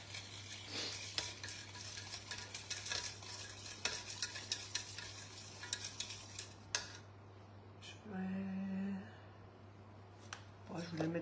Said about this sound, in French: Ma petite cuillère magique, je vais mélanger tout ça.